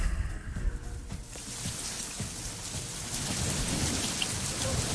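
Steady rain shower on a cool autumn evening, a dense hiss of drops close by with no voices, continuous and fairly loud throughout.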